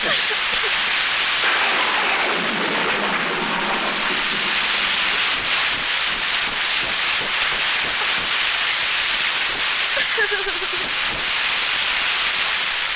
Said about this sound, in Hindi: अरे बारिश भी आज ही आनी थी।